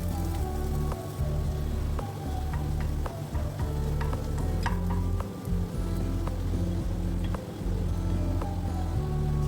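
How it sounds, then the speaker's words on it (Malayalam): Curry leaves crackle and sizzle in hot oil for an egg curry, a dense steady frying hiss with scattered pops and occasional scraping stirs, close and continuous throughout. "ഇതിൻ്റെ അകത്ത് കുറച്ച് കറിവേപ്പില ഇട്ട് കൊടുക്കുക"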